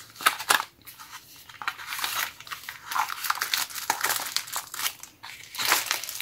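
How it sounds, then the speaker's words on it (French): Plastic packaging crinkles and crackles continuously as it is peeled off a pack of three craft items from a discount-store haul, close and fairly loud, with no talking. "On va essayer d'enlever le plastique."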